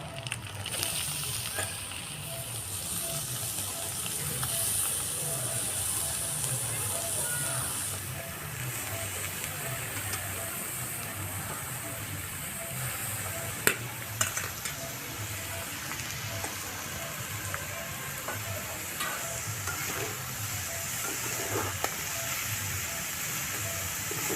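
Beetroot and carrot fry in a pan with roasted ground spices, a long steady sizzle and hiss close by, broken by a few sharp clicks and knocks midway; no speech.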